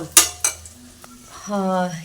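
A spoon scrapes and clatters in a pan while eggplant curry is stirred and turned, two quick metallic knocks followed by softer scraping, close and clear with no talk.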